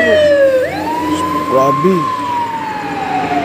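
A fire truck siren wails early in the morning at Kinasang-an, Pardo, Cebu City, its pitch rising and then holding in a long, loud sweep, with a voice speaking briefly over it.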